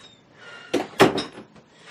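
A door in a home is pushed shut, a quick scrape followed by a solid thud and latch click, close by and alone.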